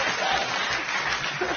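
An audience claps briefly at a talk, a soft, steady patter of many hands at a distance, with a faint murmur underneath.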